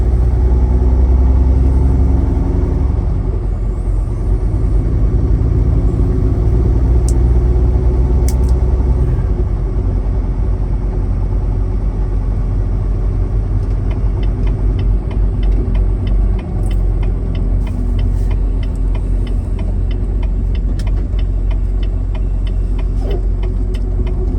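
Steady low engine rumble and road roar from a vehicle cruising a highway at night on a long drive from Georgia toward Kansas, constant and loud, heard from inside with no talking.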